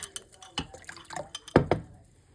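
Warm water at 100 degrees, for bread dough, splashes and trickles in short bursts as some is poured off, with a couple of louder pours near the end and faint background noise.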